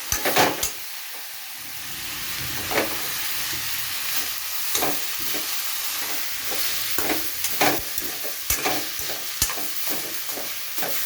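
Curry leaves sizzle in hot oil for a tempering as a spoon stirs them. The steady frying hiss is broken by sharp, repeated scraping clicks against the pan, close by and with no talking.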